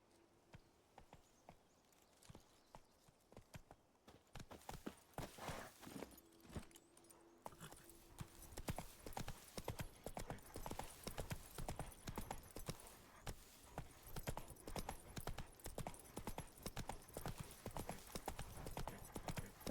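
Horse hooves clip-clop steadily in The Witcher 3, starting faint and sparse, then growing into a loud, rapid, continuous rhythm of hoofbeats as the horse speeds up; occasional voice underneath.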